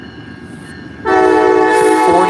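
A CN freight train passing at night on the Flint Sub sounds its loud, sustained horn, which jumps in suddenly over the steady rumble of the rolling train.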